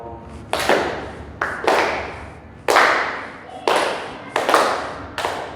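Sharp unison claps from a class of students in a university teaching session at Universitas Jember, roughly seven strong bursts at irregular intervals, each trailing off in room echo.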